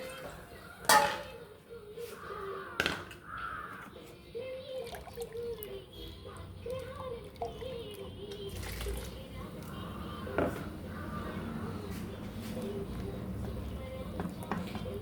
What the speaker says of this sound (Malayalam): അരപ്പിനകത്തോട്ട് കുറച്ച് വെള്ളം കൂടി ഒഴിച്ച്